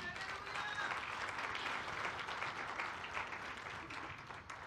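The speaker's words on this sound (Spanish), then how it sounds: "De un aplauso al Señor" Church congregation applauding during a sermon, a sustained, fairly faint wash of clapping with a slight swell in the middle.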